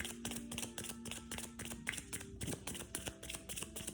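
Quiet, continuous riffling and flicking of a tarot deck being shuffled, with repeated soft tapping bursts over faint background hum.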